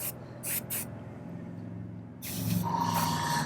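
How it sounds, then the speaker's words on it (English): Airbrush spraying paint onto the base of a miniature wolf model: short hissing bursts near the start, then a longer steady spray close to the mic, with a low hum underneath. "Let's spray a little bit on the base here and just kind of see where we're at."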